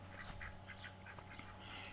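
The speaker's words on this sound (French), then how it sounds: "Ah, ils sont là les canards." Ducks quack in a series of short calls in a garden, soft and somewhat distant over a steady low background hum.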